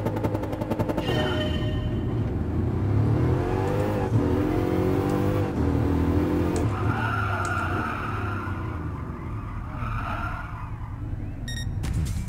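A high-power race car in the Gran Turismo Sport video game roars at speed with a steady engine drone, then tyres squeal under hard braking, the engine note shifting as it slows; no talking.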